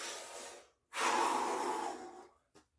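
A deep breath drawn in, then a long, loud exhale lasting over a second, close to the mic, with a brief puff of air at the end; a marching cymbal player breathing steadily while relaxed.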